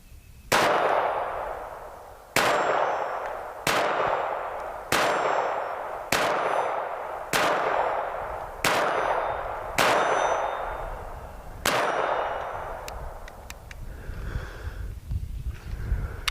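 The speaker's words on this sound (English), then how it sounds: "As far as a 22 pistol goes, this might be the best one I've ever fired." Sharp, loud shots from a Walther P22 .22 pistol, eight evenly spaced reports about a second and a half apart, each with a short ringing decay, followed by quieter clinks and handling noise.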